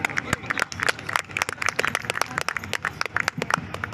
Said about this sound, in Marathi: जोरदार टाळ्या होऊन जातात वसुंधरासाठी